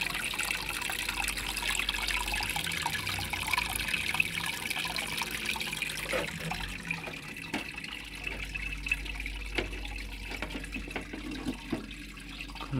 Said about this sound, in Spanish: corre más el agua